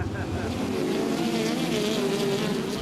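A pack of twenty sprint cars roars continuously in the distance at Ventura Raceway, engines droning and buzzing over a steady crowd-and-track background.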